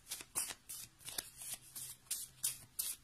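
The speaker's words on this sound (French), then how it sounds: "Je pense que je vais devoir couper mon jeu." A deck of cards being shuffled and cut by hand: quick rhythmic riffling bursts, about eight in three seconds, close and fairly soft, with no talking.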